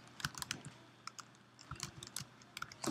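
Quick bursts of keystrokes on a computer keyboard, close and crisp, with short pauses between groups of clicks and a sharper final tap at the end.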